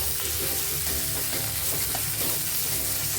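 Tomato stirred into onions frying in a pan for aloo bhindi gives a steady, dense sizzle with soft scraping and stirring throughout, close and continuous with no talk.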